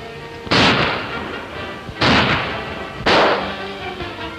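Three loud gunshots ring out in a garden during a 1930s gunfight, spaced about a second and a half apart, each a sharp blast with a lingering echo.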